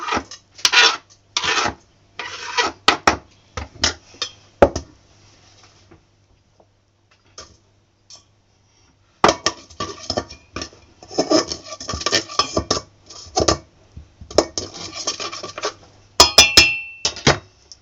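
Clattering metal and glassy clinks as items drop into a pot, in bursts with a quiet pause midway, then more rattling and scraping.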